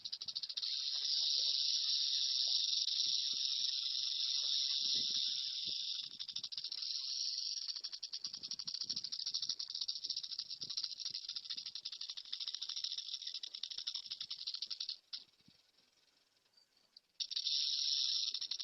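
An agitated snake in California gives a sustained, loud, buzzing warning rattle that runs almost without a break, dips briefly near the end, then starts up again at full strength.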